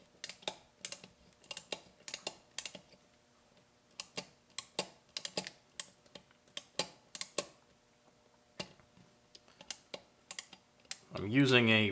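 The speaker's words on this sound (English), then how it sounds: "I'm using a ratcheting tap holder, which is great." Ratcheting tap holder cutting a thread with oil, giving sharp, irregular clicks in quick clusters, close and fairly quiet, ending in a brief louder rustle.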